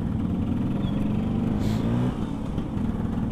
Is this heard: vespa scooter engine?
yes